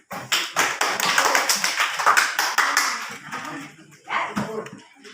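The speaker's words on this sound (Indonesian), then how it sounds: "Kasih tepuk tangan" Classroom applause from a group of students, irregular clapping and tapping spread across the room at close range, swelling and fading over a few seconds before a brief renewed burst.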